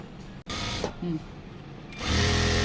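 Sewing machine stitching the folded hem of a chudithar top in short bursts, pausing between runs, with a louder faster stretch at the end and a voice talking over it.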